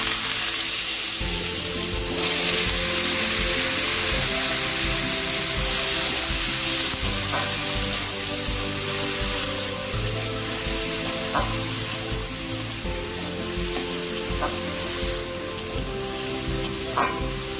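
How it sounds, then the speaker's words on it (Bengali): Two large cut potatoes frying in hot oil with spices, a loud continuous sizzle with occasional stirring clicks and scrapes, close up and without talk. "আমি এই বড় সাইজের 2টো আলু কেটেছি, এই 2টো দিয়ে দেবো।"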